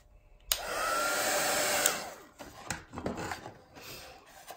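A hair dryer blows steadily on a watercolour flower painting to dry a layer, loud and continuous for about a second and a half, then cuts off into scraping and rubbing handling noises.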